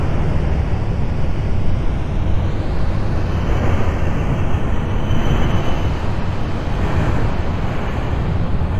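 An R42 subway train runs in the OpenBVE train simulator game, a loud continuous low rumble and roar of the car in motion with no talking.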